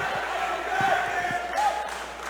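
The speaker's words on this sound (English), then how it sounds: "the crowd is getting behind this" Spectators cheering and shouting at a live grappling super fight at a Cage Titans event, a steady roar of crowd noise with scattered louder whoops and a surge of excitement near the end.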